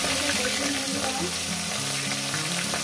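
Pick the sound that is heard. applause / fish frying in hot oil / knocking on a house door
fish frying in hot oil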